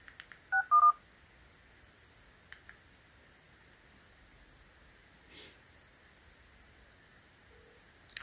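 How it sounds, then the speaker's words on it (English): A few short keypad beeps dialing 611 on an AT&T Alcatel 4052R SmartFlip phone, then two longer tones, followed by quiet hiss and a couple of faint clicks. "Let me try to make a phone call and see. I'll dial 611"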